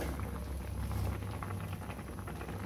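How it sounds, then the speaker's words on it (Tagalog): Chicken feet and chicken wings boil for adobo, giving a steady, dense bubbling and rolling simmer close by, with no talk. "magpapakulo naman tayo ng chicken feet at chicken wing para sa ating adobo mamaya"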